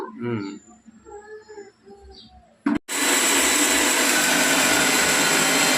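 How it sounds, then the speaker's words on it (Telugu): Mixer grinder grinding masala spices of cardamom and cloves, starting abruptly after someone speaks and a brief clunk, then roaring loud and steady to the end. "ఇదిగోండి మసాలా పడుతున్నాను"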